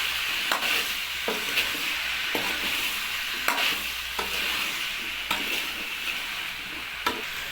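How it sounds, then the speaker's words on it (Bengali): Potatoes with salt are stirred in a frying pan for a bottle gourd and pumpkin dish, a steady close sizzle broken by regular scraping clicks of the spoon against the pan. "হালকা স্বাদ মতন লবণ দিয়ে একটু নেড়ে নিতে হবে"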